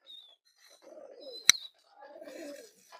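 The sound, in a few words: pigeons cooing on a hobby farm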